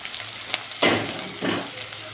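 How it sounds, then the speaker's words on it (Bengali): Vegetables for a spinach ghonto fry in a pan, a steady moderate sizzle interrupted by a sharp stirring scrape and a second softer one, heard close with no one speaking. "এই অবস্থায় ভাজা ভাজা হয়ে গেছে সবজিগুলো"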